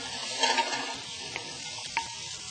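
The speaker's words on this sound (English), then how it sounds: "And we're gonna stir fry. It's really hot, you can hear it." Egg stir-frying in a very hot pan: a bright sizzle with scraping stirs and a couple of sharp utensil clicks.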